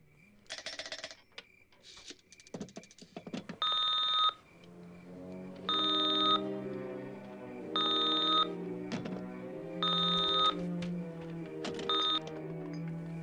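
A Dream Phone board game telephone rings in regular electronic bursts, after a few short clicking and tapping sounds, fairly quiet and alone.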